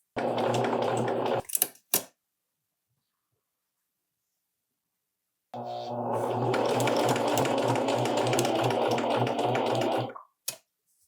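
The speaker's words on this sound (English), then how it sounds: "Okay, so we're just doing a basting stitch." A sewing machine runs a basting stitch while making Lane pants, in two long steady bursts of close mechanical whirring separated by silence, with brief clicks at the ends of each run.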